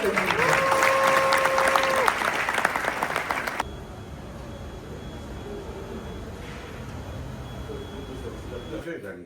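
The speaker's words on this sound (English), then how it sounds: "applaudissez toutes ces personnes" Audience applause for entrepreneurs at a gathering in Kinshasa, a burst of dense clapping with a tonal voice over it for the first few seconds, then an abrupt cut to quiet room noise.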